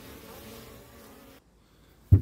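Young honeybees buzz around a small nucleus hive at an apiary, a faint hum that fades out before one loud, close buzz passes the microphone at the end.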